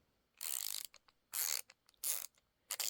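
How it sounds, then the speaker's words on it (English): A Hyper Tough ratcheting screwdriver is worked on wood, its mechanism giving several bursts of rapid, close, crisp clicking with short pauses between them, with no voices. "The ratcheting mechanism is very smooth."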